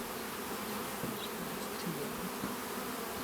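Close, continuous droning buzz of many honeybees in an open hive, a dense steady hum with small flickers of individual wingbeats.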